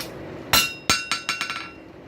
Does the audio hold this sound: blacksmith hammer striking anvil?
yes